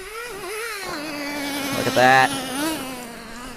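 A Traxxas nitro RC car engine with a blue head runs at a steady pitch, revving up and back as the car passes, its buzzy whine sitting under a brief spoken remark.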